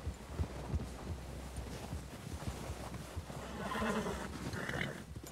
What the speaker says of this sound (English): o cavalo andando no terreno é muito bom